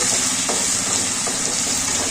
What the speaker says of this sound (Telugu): ఉల్లిగడ్డలు, బెండకాయలు పోపు చేసేయాలండి